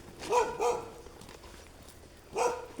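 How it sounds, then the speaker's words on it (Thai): A dog barks in a Thai temple ground near monks' quarters and a bamboo grove, giving two quick barks close together, then a pause and one more bark, fairly near and clear. "เห่าธรรมดา"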